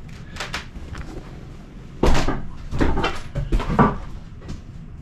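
A new vinyl dual-pane sliding window is worked in its frame, giving a few soft rubs and then louder scraping slides and knocks in irregular bursts, close by, with no talking.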